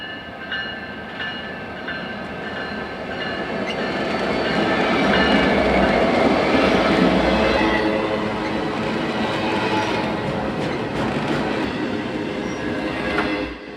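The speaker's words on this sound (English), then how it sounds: "Our last train at Thornton is Union Pacific Intermodal Train ILDYC" A Union Pacific intermodal freight train, led by a Kansas City Southern SD70ACE locomotive, rolls past at Thornton on Chicago's Joint Line. A rising rumble swells to a loud midpoint of clattering wheels and faint squeals, then eases as the cars keep rolling by.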